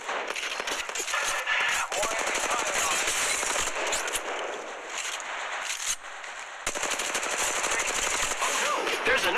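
Rapid automatic gunfire rattles in Apex Legends Mobile, sustained loud bursts that break off briefly and then resume, mixed with sharp single shots and game effects.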